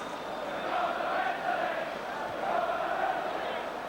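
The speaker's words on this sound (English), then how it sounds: "They're shouting now, we're going to win the league." Everton supporters at Goodison Park during a 4–0 win over Newcastle in January 1985, a distant roaring crowd chant swelling and falling in two broad waves, heard as a continuous massed vocal drone.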